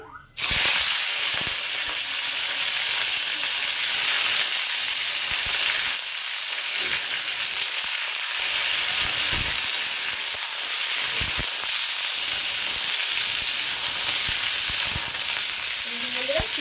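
Green beans frying in oil with chili and black nigella seeds, with potato in the pan: a loud, steady sizzle runs throughout, broken by scattered scrapes and clicks of stirring, with no voices.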